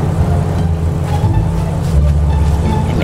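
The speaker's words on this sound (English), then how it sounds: "Ooh, we got the Lambo out." A Lamborghini in GTA 5 idles with a steady low engine rumble, close and continuous, with no clear revs or passes.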